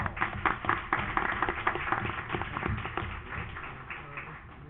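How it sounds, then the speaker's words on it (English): Steady applause from a crowd at a city council meeting, many hands clapping continuously at moderate volume, slowly tapering near the end. "let's give them a round of applause."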